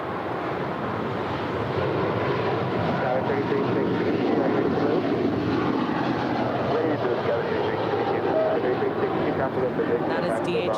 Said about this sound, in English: That is DHL Coletta Air 232 off to Sydney, Australia. It's a 2-year-old 777 freighter.